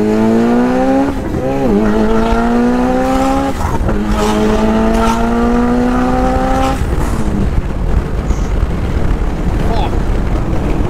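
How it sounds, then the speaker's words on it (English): A 1,000-horsepower Mitsubishi Evo X with an open, very loud exhaust roars steadily up through the revs with a brief dip and rise, close and dominant throughout while a voice shouts over it. "my exhaust is open and very loud"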